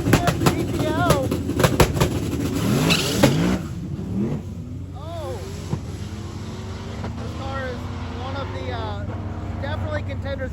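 Cars launch at a drag strip in a stick shift class, including a GTO, with loud revving engines and sharp bursts in the first seconds, then a steady engine drone under crowd chatter and talk.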